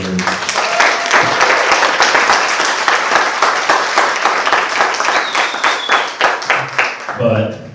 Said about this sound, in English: let's give a round of applause for our service members